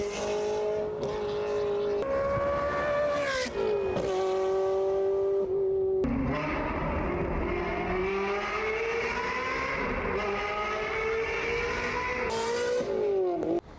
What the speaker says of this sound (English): Here's what it sounds like. Today it's part 1 of the Ferrari 360.